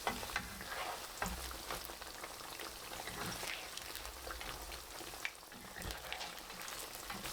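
Eggplant pieces fry in very hot oil, giving a dense, steady sizzle and crackle with occasional louder spits and stirring clatter, close and continuous throughout.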